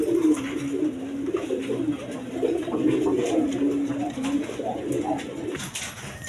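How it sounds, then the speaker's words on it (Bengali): A pair of red Gorra pigeons kept with two young coo continuously, a close, throaty rolling murmur that swells and fades over several seconds, with a faint voice nearby. "এইখানে এক পেয়ার গররা কবুতর আছে"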